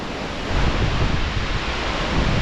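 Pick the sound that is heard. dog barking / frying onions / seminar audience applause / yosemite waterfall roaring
yosemite waterfall roaring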